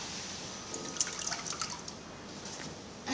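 Water drips and trickles off a waterlogged paper-based photo album as it is lifted out of a soaking bath, scattered small droplets patting down over a steady wet hiss, faint and close.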